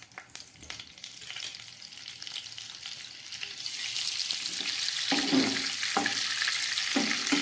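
A lump of butter sizzles in hot white cooking oil in a pan, a steady frying hiss that swells louder and fuller midway, with a few soft crackles toward the end.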